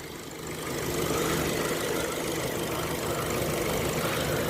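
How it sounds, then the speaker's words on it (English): A Subaru car engine idles with a soft, even, low rumble that steadies after a brief rise, fairly quiet and heard alone. "I wish my engine sounded that good"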